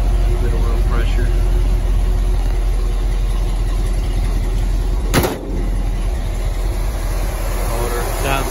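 A 1949 Chevy 3100 shortbed rat rod shop truck with a V8 idles steadily after a cold start, a low, even engine rumble running throughout as someone talks beside it.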